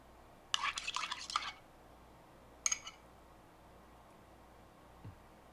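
A spoon works through thick oil, making two bursts of clinking, scraping strokes against a container, one long and one short, then a faint tap near the end, with quiet pauses between.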